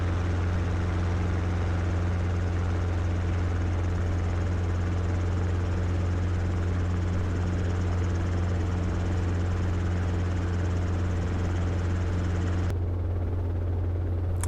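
Robinson R22 helicopter in flight, a steady loud rotor and engine drone with strong low harmonic bands that holds throughout, then drops sharply in the upper range near the end.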